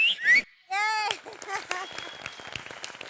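Short, high whistles ring out on a Celebrity MasterChef set as a cheer for Farah. They are followed by whooping voices and clattering kitchen noise.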